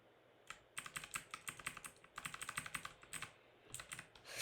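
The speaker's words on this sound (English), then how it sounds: "Pardon me for my loud keyboard" A loud computer keyboard typed on at a desk, close rapid clacking keystrokes in short irregular runs with brief pauses.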